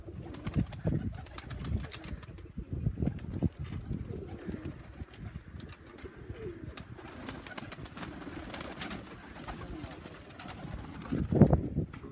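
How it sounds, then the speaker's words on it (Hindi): Large champion flying pigeons kept by a breeder in Jhelum coo in soft low bursts through the span, with a louder coo near the end; a voice murmurs faintly underneath. "राजा साहब के कबूतर जो काफी बड़े"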